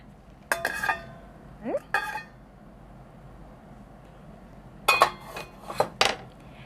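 Metal clinks and clatters in a few separate bursts as a pot and lid knock together, close up in a quiet room.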